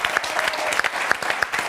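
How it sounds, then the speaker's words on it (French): Studio audience applauding on a French football television show, dense continuous clapping close and loud for a couple of seconds with no talk. "vous pouvez les applaudir."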